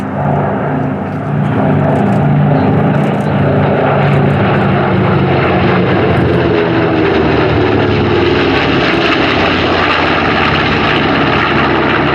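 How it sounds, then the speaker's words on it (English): A B-25 warbird leads a formation flypast at an airshow, its propeller engines a loud, sustained droning roar that swells and shifts in pitch as the aircraft pass overhead, with no voices. "They are in the cockpit of that B-25 as they lead the formation in from left to right."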